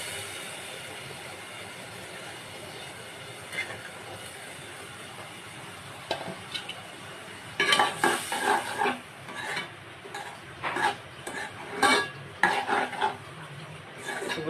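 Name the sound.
boiled lentils added to pan and stirred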